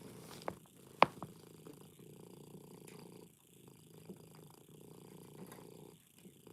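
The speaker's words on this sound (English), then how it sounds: "with her relaxing sounds of purring" A cat purrs steadily at close range, a low continuous rumble with a few faint clicks and bumps, soft and alone.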